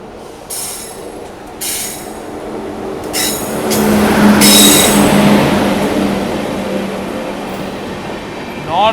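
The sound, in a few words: passing train at a railway crossing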